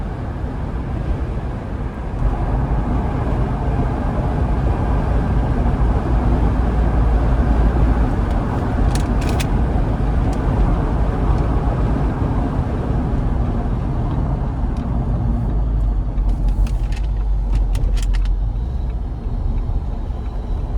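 Steady engine and road drone from a 2025 Jeep Wrangler Sport two-door with a 2.0-liter turbo four while driving, a continuous low rumble with tire noise and a few faint high ticks, heard from inside the cabin.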